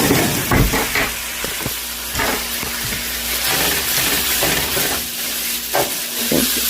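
Ground beef frying in a pan for hamburger-helper lasagna, with a steady broad sizzle and scattered scraping taps as a spatula breaks up the clumps; no one speaks.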